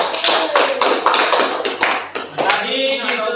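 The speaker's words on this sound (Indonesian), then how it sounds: "Kita beri tepuk tangan untuk tanggapan kelompok 4" A classroom group claps for a student group's answer, with a few loud, separate hand claps falling into a quick rhythm of close, sharp slaps before voices come in near the end.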